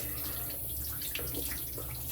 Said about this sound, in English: Just rinsed off the brush.